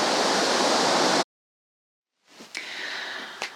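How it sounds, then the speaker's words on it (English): Whangarei Falls, a powerful waterfall, roars loud and steady as a broadband rush, cuts out abruptly, then returns more faintly with a couple of brief knocks. "It's such a powerful waterfall and it is beautiful."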